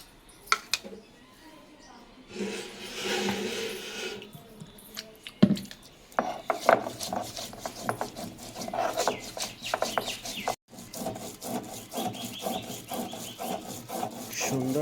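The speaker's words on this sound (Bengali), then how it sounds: "এবার আদা জিরেটা বেটে নেব" Ginger and black cumin are ground on a stone slab, with repeated gritty rubbing and scraping strokes in an uneven rhythm, close and fairly quiet, with occasional soft voice in the background.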